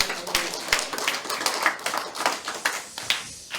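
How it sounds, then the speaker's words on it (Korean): Congregation applause at a Friday Holy Spirit church service, a small group clapping in quick, uneven bursts, close and fairly loud, with distinct individual hand claps. "박수."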